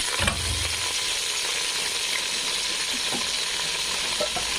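Yogurt-marinated chicken coated in biryani masala and whole spices fries in a pan over tomatoes, giving a steady loud sizzle with a soft thud at the start and faint stirring scrapes, no voices.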